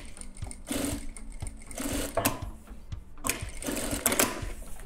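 A programmable sewing machine stitches a pocket finishing seam on its own, running in loud close bursts of rapid needle clatter separated by short pauses.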